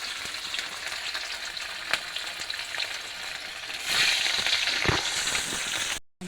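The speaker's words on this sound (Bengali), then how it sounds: "তেল গরম হচ্ছে, মাছগুলো ছেড়ে দিচ্ছি এক করে।" Fish pieces frying in hot oil in a kadai, a loud continuous crackling sizzle that swells and gets harsher midway, with a few clanks and stirs before it cuts off.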